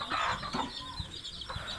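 A few chickens cluck softly in short, scattered bursts, faint and close by in a quiet setting.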